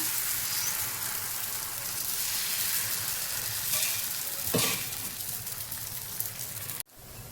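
A thin layer of rice batter sizzling on a hot pan, a steady close crackling hiss throughout with a brief clatter near the end before the sound cuts off.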